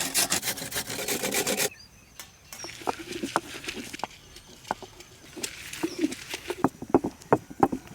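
Whole coconuts are grated for coconut milk, making close, rapid scraping rasps at first, then a patter of separate short scratching strokes with brief pauses between.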